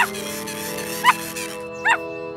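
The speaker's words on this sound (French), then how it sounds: "Quelqu'un aboie." A small cartoon puppy yips a couple of times, short high barks spaced apart over a steady background hum.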